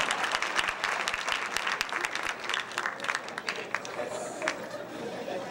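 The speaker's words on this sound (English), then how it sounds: "Let's have a round of applause for our winners in the music category" An academic decathlon audience applauds the music category winners with scattered, fairly close claps and some chatter running underneath.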